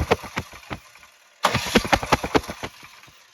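Small snowblower engine cranked over repeatedly during a no-start diagnosis with the exhaust off, a fast string of rhythmic chugging pulses in two bursts separated by a short pause, close and moderately loud.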